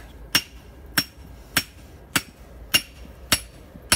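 Hammer blows on hot metal at a forge in Utrecht ring out seven times at a steady pace about every half second, sharp and close, with no talk.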